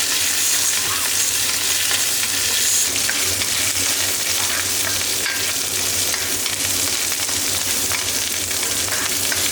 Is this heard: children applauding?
no